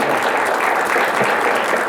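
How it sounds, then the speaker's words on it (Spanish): Loud, close applause fills a conference hall at a Spanish-language auditing and public information forum, a thick, even wash of clapping hands lasting about two seconds. "muchas gracias al doctor Claudio, nuevamente un aplauso"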